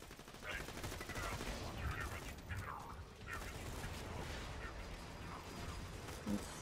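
Laser weapons fire in Borderlands 2 as a busy stream of rapid electronic shots amid game combat, with a voice talking over it.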